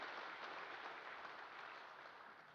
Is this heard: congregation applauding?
yes